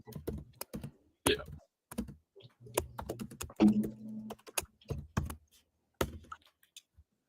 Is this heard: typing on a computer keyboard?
yes